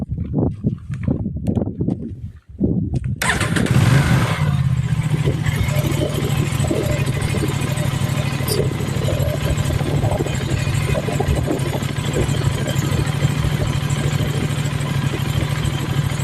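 An Aprilia RS 457 motorcycle engine cranks and catches, then settles into a steady, throbbing idle close by, with a few faint clicks beforehand.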